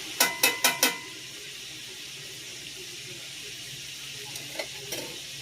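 Southern fried steak frying in a pan gives a soft, steady sizzle, after a quick run of four sharp metallic clicks at the start; close and quiet, with no talking.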